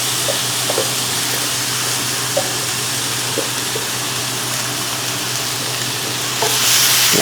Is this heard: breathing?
no